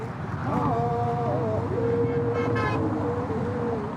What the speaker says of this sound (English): The bridge shakes and hums from the force of cars. It's unbearably loud.